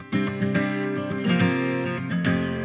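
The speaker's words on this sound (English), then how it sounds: "That's really just from me pulling off those 2 strings." Quick plucked guitar notes ring out in a short repeating pattern, two bright strings pulled off with fast legato flicks, close and clear.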